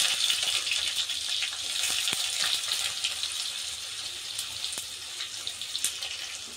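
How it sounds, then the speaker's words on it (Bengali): Chopped onions frying in hot oil with whole garam masala, for a doi sorshe chicken: a steady, bright hiss and sizzle throughout, with scattered small pops. "পেঁয়াজ কুচিটা বাদামি করে আমি ভেজে নেবো।"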